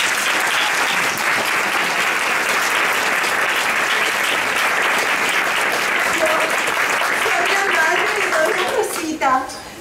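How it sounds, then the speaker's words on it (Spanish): A theatre audience applauds a small puppet theatre troupe during a night of theatre events, dense sustained clapping filling the whole stretch at close range, with a few voices emerging as it tapers off at the end. "Un aplauso para ellos, por favor."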